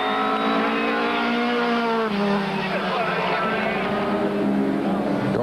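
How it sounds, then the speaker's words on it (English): A Toyota rally car at the 2002 Cape Rally roars down a dirt-stage straight, its loud engine note holding high and shifting pitch as it passes, with a commentator talking over it. "The Toyota though, with Damso blasting past on the straight to win the stage by 3 seconds"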